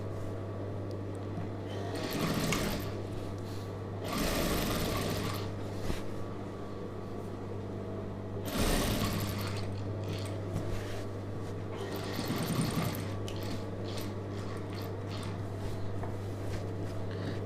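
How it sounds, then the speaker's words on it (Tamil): A sewing machine stitching a star-neck chudidhar runs with a steady low hum, broken by several louder bursts of fast stitching. "இதில் ஒரு தையல் போட்டுடலாம்"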